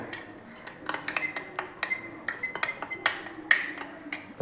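A spoon stirs green gram payasam in a metal pot, giving a steady run of light, close clinks and scrapes in an irregular rhythm with no talking.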